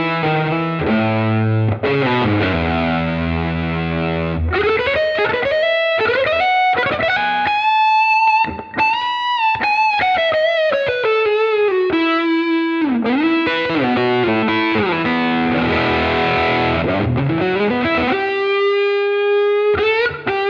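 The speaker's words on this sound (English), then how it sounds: "Rock, which is again a more standard distortion." An electric guitar played through a Fractal FM3 rock distortion preset gives sustained, saturated chords and a long singing lead line with bends, loud and continuous, with no talk.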